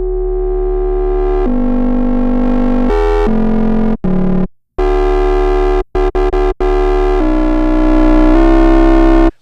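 Sustained distorted synth bass tones, loud and buzzy, changing pitch in steps with brief cutouts between notes.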